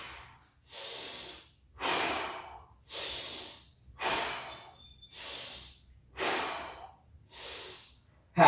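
Heavy, forceful exhales from a person holding a plank during an ab workout, about eight long hissing breaths in a steady rhythm, close and fairly quiet, with no talking over them.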